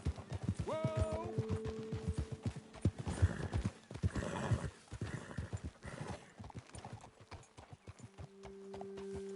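Several horses walk with repeated clip-clopping hooves in an uneven rhythm, close by, and a horse neighs loudly near the start and again faintly at the end.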